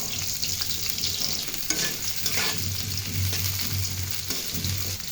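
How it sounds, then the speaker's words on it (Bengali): Chopped onions fry in hot oil in a wok, a steady close sizzle running the whole way with scraping stirs and a low hum beneath, no voices. "কেটে রাখা পেঁয়াজগুলো দিয়ে দিলাম।"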